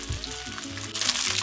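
Chicken pieces sizzle and crackle in a hot wok for a chicken and broccoli stir fry, a loud, steady frying hiss close up with no talking.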